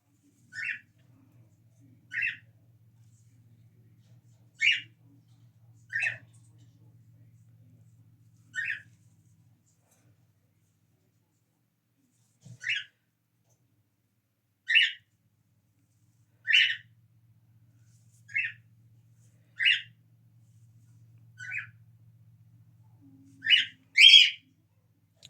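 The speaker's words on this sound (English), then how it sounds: "Oh, there goes the bird again." A pet bird in a quiet room lets out a dozen sharp squawks and whistles, spaced a second or two apart, each brief and fairly loud against near silence.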